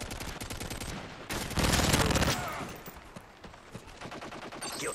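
Automatic gunfire in Call of Duty: Modern Warfare 3 rattles in steady rapid bursts, loudest in a dense volley near the middle, against a busy game soundscape.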